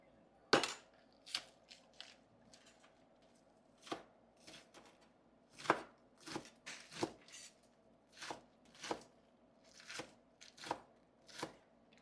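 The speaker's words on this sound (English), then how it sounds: "Then cut up my scallion." A knife chops scallion on a cutting board in a stew-peas kitchen, sharp crisp strokes landing close and distinct, sometimes single and sometimes in quick pairs, at an uneven rhythm.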